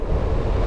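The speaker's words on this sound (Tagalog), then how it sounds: "Lakas ng hangin." Strong wind roars over the microphone during a motorcycle ride, a loud, continuous low buffeting rush with no break.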